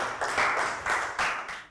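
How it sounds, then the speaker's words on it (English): A short burst of classroom applause from young pupils, a few quick rounds of clapping in rhythmic bursts, fairly close and moderately loud, with no talk over it. "Round of applause for Bang Pon."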